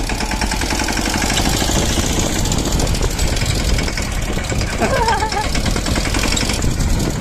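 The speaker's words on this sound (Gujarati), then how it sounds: "તો બેને ફાઇનલી ચડાવી લીધું ટ્રેક્ટર, ચલાવી લીધું" A farm tractor engine chugs loudly and continuously close by, its knocking rhythm steady throughout, with voices talking over it.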